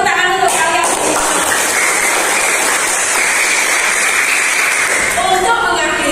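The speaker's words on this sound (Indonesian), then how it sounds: "Tepuk tangan untuk kalian." A school class applauding in a classroom, a steady hissing wash of many hands clapping for several seconds, loud and close, with brief voices at the start and end.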